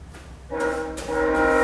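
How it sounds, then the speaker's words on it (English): A train horn sounds in two loud sustained blasts, a rumble of rail noise underneath and no voices. "I hear the train blowing by, but I don't usually hear it blowing its horn"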